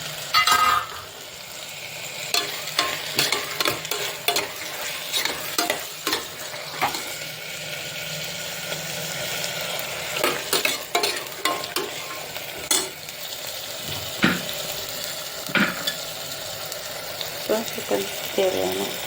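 Spoon stirring through yogurt in a pan of sizzling vegetable pulao mixture, with irregular scraping strokes over a steady frying hiss, close and moderately loud, with some background voice.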